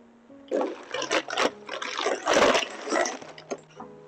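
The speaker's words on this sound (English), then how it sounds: "I'm going to put my beautiful flowers in some water." Tap water running in bursts to fill a flower vase at home, splashing and trickling near the microphone with a faint tonal hum underneath and no talking.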